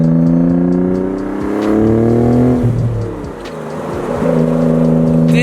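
A twin turbo V6 engine in a Nissan 300ZX pulls hard from inside the cabin, loud and rising in pitch through a gear change, then climbing again with a steady, powerful drone.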